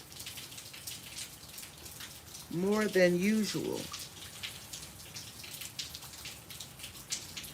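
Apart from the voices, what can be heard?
rain falling in the garden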